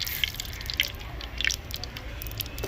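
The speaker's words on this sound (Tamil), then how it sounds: "தேவையான அளவு எண்ணெய் ஊற்றிக்கணும். கடுகு போடலாம்." Mustard seeds crackling and popping in hot oil for a village-style fish curry, a steady run of sharp little pops and sizzles close by with no talk.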